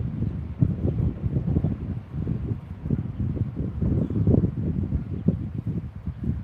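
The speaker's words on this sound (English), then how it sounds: "So windy, so windy." Strong wind roars across the microphone outdoors in Iowa, a continuous low buffeting rumble with uneven gusts throughout and no talking.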